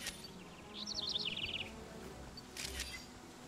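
Birds chirp in the Pokémon Snap video game world, a cluster of quick high tweets over a steady low ambient bed, followed by a short second burst of bright chirping.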